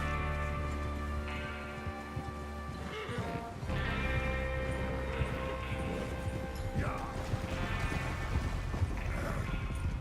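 Horse hooves clip-clopping in a steady rhythm in the video game Red Dead Redemption 2, over a background music score, with occasional whinnies and a low sustained drone.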